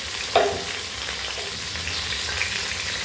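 Chopped onion and tomato fry in a hot pan with a steady close sizzle, a sharp clatter of stirring near the start and softer scrapes throughout, no voices.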